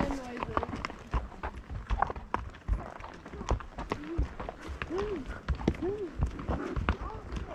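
Hooves of a horse named in a Blue Ridge, Georgia outing clop in quick irregular beats, close and fairly loud, mixed with rustling and people talking throughout.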